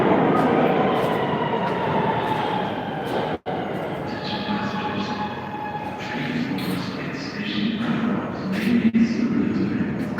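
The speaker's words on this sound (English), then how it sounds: "Last stop on the C train." A New York subway C train at its end-of-line station, a steady loud rumble of railcars with metallic screeching and clatter, brief pauses and faint background voices.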